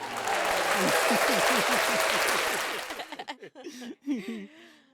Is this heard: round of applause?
yes